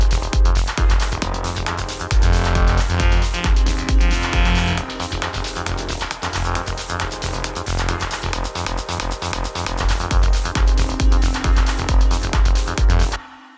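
An Elektron Octatrack runs a single techno pattern, with a steady, punchy kick driving under layered synth stabs and hats, loud and continuous throughout before cutting off at the end.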